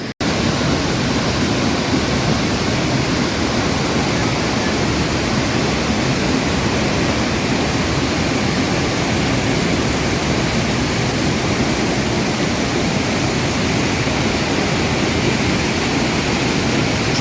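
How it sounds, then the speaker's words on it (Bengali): Samandere Waterfall in Turkey pours down between hills at dusk, a loud, unbroken broadband roar of falling water that holds steady throughout with no other sounds. "উপর থেকে ঝর্ণা পাহাড়ের মাঝখান দিয়ে নিচে নেমে গেছে"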